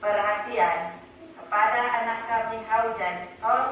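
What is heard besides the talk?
No distinct noise like a dog, phone or traffic.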